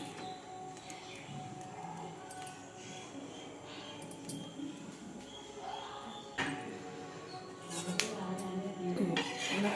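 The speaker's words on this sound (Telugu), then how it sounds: "ఇలా లిడ్ పెట్టేసుకొని" Metal utensils and cookware clatter at a stove while a lid goes onto a dosa pan during Srirangam dosa cooking, with scattered taps and clinks throughout and a louder metallic clunk partway through, then more clattering near the end.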